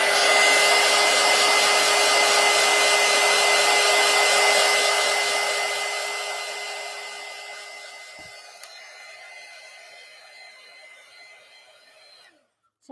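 Hair dryer blowing steadily on a paper collage, a loud airy whoosh with a constant tonal whine that fades and drops as the dryer moves away or slows, then cuts off abruptly at the end, close by.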